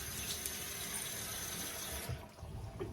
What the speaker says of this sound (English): Oh, nice cold water.